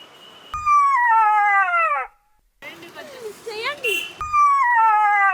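A person imitates a fox howl with two long, loud, wavering howls that slide downward in pitch, separated by a short stretch of talking.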